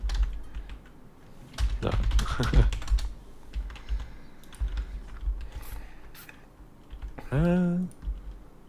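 Rapid bursts of typing on a computer keyboard, close and fairly loud, come in uneven flurries between pauses while a person talks briefly over the clicking.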